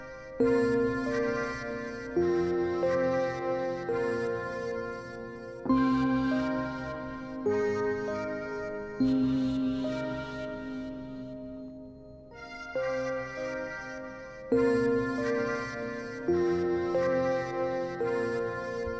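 A haunting, melancholic pattern from Twisted Tools Rolodecks in Maschine, with sustained tonal phrases repeating in a steady loop and briefly thinning out near the middle.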